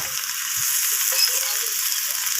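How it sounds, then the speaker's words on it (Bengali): Ginger-garlic paste fries with potato and kohlrabi in a pan, a close, continuous hiss and sizzle with faint scrapes of stirring through the short stretch. "আদা রসুনটাকেও আমি সব কিছুর সাথে নাড়াচাড়া করে ভেজে নিচ্ছি"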